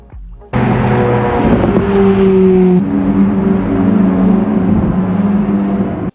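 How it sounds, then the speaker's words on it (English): Cars swooshing past on a racetrack beside a Las Vegas mansion, a loud continuous engine roar that rises and shifts in pitch as they go by, with wind rushing over the microphone and no talking. "that is pretty amazing to sit here and watch the cars go by"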